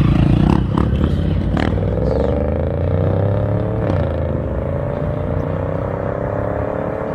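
An Audi S7 with a biturbo V8 pulls away under hard acceleration, its loud engine note climbing steadily in pitch after some clattering noises, then holding a strong drone close by.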